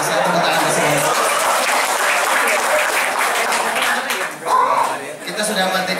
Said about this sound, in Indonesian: Ya, saya tepuk tangan di sini.